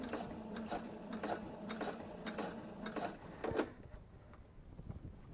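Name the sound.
sewing machine stitching forward and back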